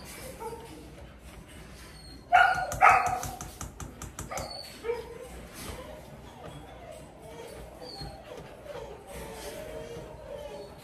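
Dogs, bully breeds, barking in a kennel setting, a short burst of loud barks early on followed by scattered fainter yips and barks against background noise.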